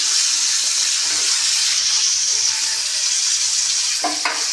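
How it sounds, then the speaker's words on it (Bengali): Fish sizzling in hot oil in a wok, a loud, close, unbroken hiss with faint crackles and a couple of light clinks near the end. "মাছটা ছেড়ে দিলাম,"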